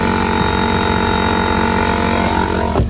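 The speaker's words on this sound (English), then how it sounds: "And then I do have the air compressor." An air compressor on a mobile auto detailing rig runs loud and steady with a constant mechanical drone and hum, then cuts off abruptly near the end.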